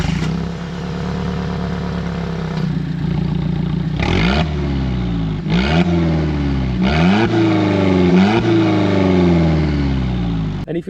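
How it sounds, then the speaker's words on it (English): A 2020 Alfa Romeo 4C Spider 33 Stradale Tributo with an Akrapovic exhaust idles loudly, then gets four or five sharp revs that rise and fall back to a rumbling idle, close and prominent. "greeted by this beautiful and aggressive Akrapovic exhaust, and it makes a menacing sound."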